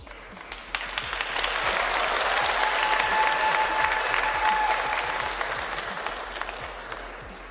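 Sustained audience applause at a Pride event in Pittsburgh, Pennsylvania, swelling after the first second into a steady roar of many hands clapping, holding loud for several seconds, then tapering slightly toward the end.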